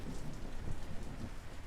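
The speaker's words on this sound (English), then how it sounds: "Get out of the rain." Steady rain with low thunder rumbling underneath, a continuous storm ambience playing as a background effect during a tabletop horror game session.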